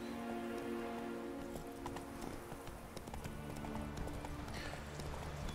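In The Witcher 3, the horse Roach trots along with a steady, rapid clip-clop of hooves, accompanied by rain pattering and soft sustained background music.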